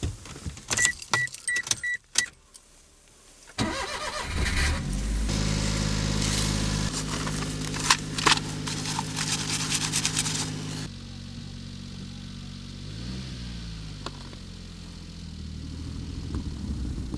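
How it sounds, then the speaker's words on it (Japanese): A kei camper van engine turns over after a few clicks and knocks on a freezing morning in eastern Hokkaido, then settles into a steady low idle with a faint whine and rumble throughout. "一旦エンジンつけます。"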